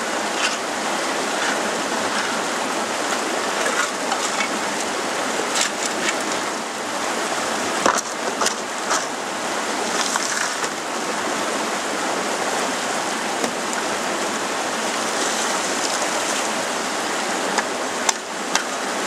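River water rushing steadily through a sluice box on a creek mining claim, a constant close hiss and wash with faint splashes and no voices.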